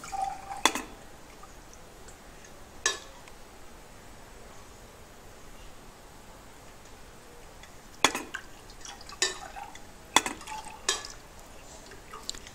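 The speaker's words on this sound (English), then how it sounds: "As the bucket tips" Tipping bucket rain gauge on a calibrator, its bucket tipping with sharp clicks and small knocks at irregular intervals over a faint steady hiss of trickling water.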